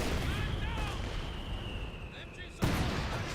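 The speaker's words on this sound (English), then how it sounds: "Another flare mine there." A flare mine going off in the strategy game Company of Heroes 2, heard as a sharp blast near the end over constant battlefield rumble and a thin whistling tone, with a commentator's voice nearby.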